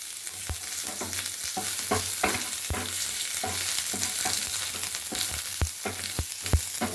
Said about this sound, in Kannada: ಎರಡು ನಿಮಿಷ ಫ್ರೈ ಆಗಬೇಕು ಥರ ಫ್ರೈ ಮಾಡ್ಕೊಂಡಿದ್ದೀನಿ